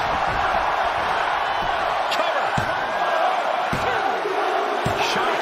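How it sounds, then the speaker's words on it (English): An arena crowd in the WWE 2K23 wrestling video game cheers and roars steadily throughout, with sharp slams and impacts cutting through the crowd noise. "this crowd is on their feet in full appreciation"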